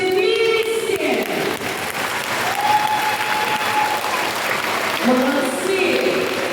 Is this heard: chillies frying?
no